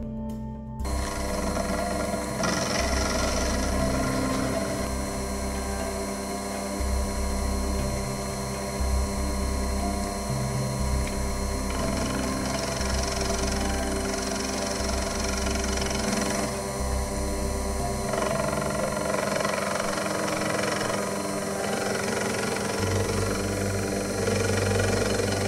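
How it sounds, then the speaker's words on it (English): A milling machine cuts a slot in a small screwdriver sharpener part in a home machine shop, giving a steady motor hum with a continuous whine and grinding that shifts in pitch as the cutter feeds through the metal. "we'll mill a slot to define the range of movement of the screw"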